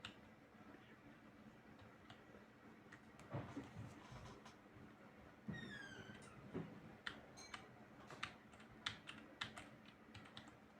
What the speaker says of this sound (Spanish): Ese sonido es el teclado.